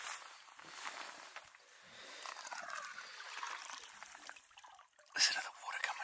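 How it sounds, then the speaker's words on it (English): Water trickles and drips from a freshly caught Murray cod, a quiet, close splattering with a brief louder splash near the end, set against faint background hiss. "Listen to the water coming out."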